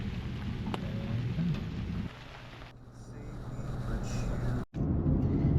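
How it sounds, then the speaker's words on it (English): Steady rain patters in a continuous wash at a campground, with a low rumble underneath that drops briefly midway before returning. "Why does it always seem to rain when we're in a hurry to get out of a campground?"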